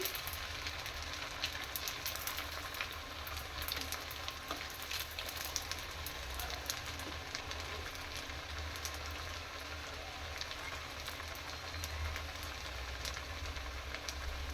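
Crisp rava vade fry in hot oil in a pan, a faint but continuous sizzle and crackle of bubbling oil that holds steady throughout, with no voices over it.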